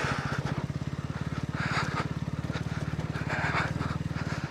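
A motorcycle rolls slowly along a mountain road between Kalinchok and Kathmandu, its engine a steady, close low thumping at an even rhythm with only slight swells in loudness, plus faint wind noise above it.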